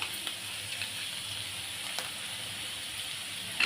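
Tomato, ginger-garlic paste and pav bhaji masala sautéing in a pan, heard as a soft, steady frying hiss with a couple of faint clicks.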